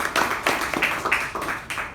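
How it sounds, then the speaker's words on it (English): At a Toastmasters club meeting, a small group claps in a scattered round, individual hand claps distinct and fairly near, a brief modest applause rather than a large crowd. "can we have a special round of applause for her?"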